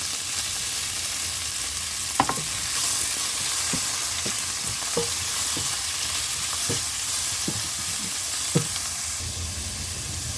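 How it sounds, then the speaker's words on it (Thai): Garlic fries and pork is stir-fried in a pan, giving a loud, continuous sizzle with a string of sharp spatula taps and scrapes against the pan at irregular intervals. "นำกระเทียมลงมาเจียวนะคะ แล้วก็จะนำหมูลงไปผัดนะคะ"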